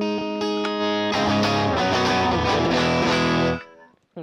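Electric guitar through a UAFX Ruby '63 amp pedal with the room control at zero, a loud, dry, direct overdriven tone: a sustained chord, then busier strummed playing that stops abruptly near the end.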